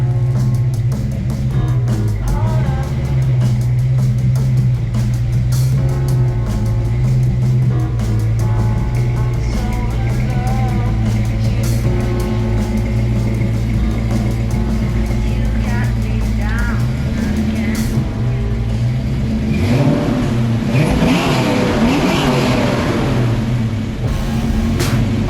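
A Ford Fox-body Mustang engine rumbles and revs steadily for a long stretch, growing rougher and louder near the end as the car pulls away.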